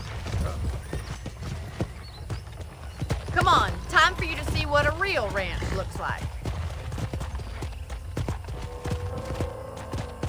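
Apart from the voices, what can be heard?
horse hooves clip-clopping in a video game ranch scene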